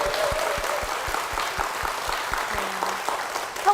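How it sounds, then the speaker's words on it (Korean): A church congregation claps for its senior pastor, a sustained hum of applause with a steady, evenly spaced beat of rhythmic claps running beneath it, heard at moderate distance. "담임 목사님과 교회를 위해서 힘찬 박수"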